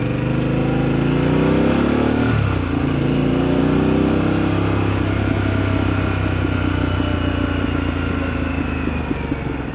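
A customized Harley-Davidson Pan America Special motorcycle engine revving loudly and close, the pitch climbing then dropping sharply and settling into a rough, throbbing idle.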